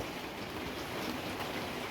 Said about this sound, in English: As you can hear and see, it's raining out there.